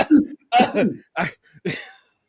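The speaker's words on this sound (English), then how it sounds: "I got a bit of a cough today" A man gives a few harsh, rough coughs and throat-clearing bursts in quick succession, close to the mic with brief pauses between them.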